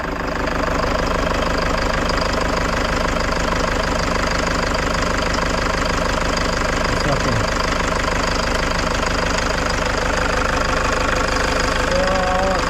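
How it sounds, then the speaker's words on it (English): A car engine idles steadily after a coolant level check, a continuous mid-pitched hum with a faint knocking texture running the whole time, with someone briefly speaking over it. "So engine is running fine, all good, no issue."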